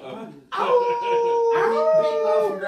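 A woman imitates a dog howling with her voice, two long, loud wavering howls close by, each rising and sustained for about a second, with people talking around her.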